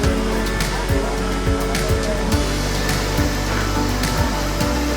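Taughannock Falls waterfall and creek in New York's Finger Lakes pour with a steady, dense roar of rushing water, loud and continuous throughout, with faint low bumps beneath.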